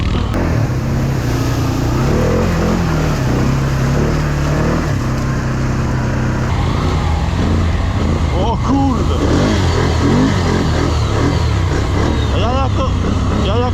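A Can-Am off-road vehicle's engine roars loud and close over rough, muddy terrain, revving hard with rising and falling surges while people talk and shout over it.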